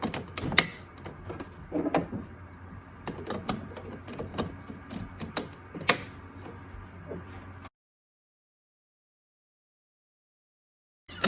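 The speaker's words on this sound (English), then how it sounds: "we are going to go ahead and add our cartridges in here. Push down until you hear a click." Ink cartridges pushed into an Epson WF7720 printer give a series of close, sharp plastic clicks and handling rattles over several seconds, then the sound drops to silence.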